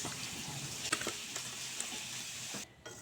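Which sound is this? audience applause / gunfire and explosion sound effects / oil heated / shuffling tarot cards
oil heated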